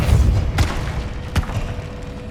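The Depulso force spell is cast in Hogwarts Legacy and lands as two deep booming thuds over a rumbling game background, the second blast slightly stronger.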